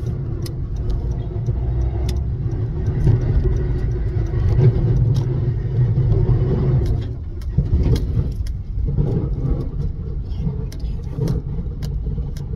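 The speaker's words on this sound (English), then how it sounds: "Sorry, y'all, there's a cone under my car." A car with a traffic cone stuck underneath, driving along with a steady close engine and road rumble, a rougher scraping-like patch partway through, no talk.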